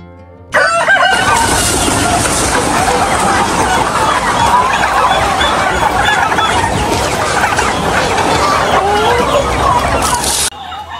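A flock of farm turkeys fed on free organic feed, dense and loud overlapping gobbling and clucking calls from many birds close by, continuous for the whole stretch before cutting off abruptly.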